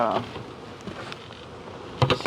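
Honey bees buzz around an open beehive, a close, continuous insect hum with a few sharper knocks and rustles near the end.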